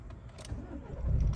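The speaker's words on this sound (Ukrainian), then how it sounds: "Зараз заведу двигун." A Nissan Qashqai+2 J10 with a 1.6 dCi diesel engine starting up: a few faint clicks, then a low rumble that swells as the engine catches near the end, heard close and fairly quietly.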